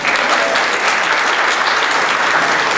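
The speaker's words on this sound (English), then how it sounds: "let's give the Councilwoman a hand clap" Sustained applause from an audience at a community meeting, many hands clapping steadily throughout, loud and close with no speech over it.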